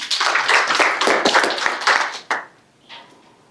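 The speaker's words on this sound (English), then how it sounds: "Let's clap for her." Close, loud clapping from a small audience at an apprenticeship program launch, a burst of overlapping claps that stops abruptly, followed by a short pause and a faint voice.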